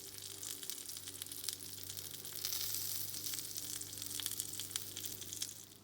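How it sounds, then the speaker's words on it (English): An egg-stuffed pizza fries in a pan until crispy, giving a steady, soft sizzle with small crackles throughout and no voices. "Fry it well until it's crispy from both sides."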